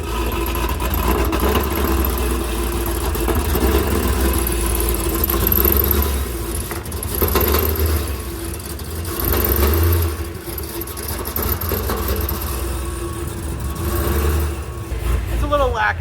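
A Hennessey-tuned 1000 HP Cadillac CT5-V Blackwing engine drones and surges unevenly under acceleration, its note wavering and faltering beneath a person talking throughout.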